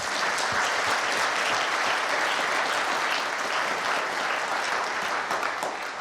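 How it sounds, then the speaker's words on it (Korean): A large audience at a national prayer breakfast applauds, dense continuous clapping that stays loud and even from start to finish, with no voices rising above it. "이분들에게 또 뜨거운 박수를 부탁드리겠습니다."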